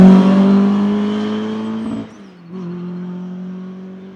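A Ford Escort race car at the Shelsley Walsh hill climb season opener gives a loud, close, steady engine drone that dips briefly as it shifts, then carries on at a lower pitch.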